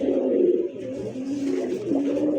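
Pigeons at a Bangladeshi pigeon market cooing loudly nearby, continuous rolling throaty calls that overlap and pulse with slight dips, with faint background bustle.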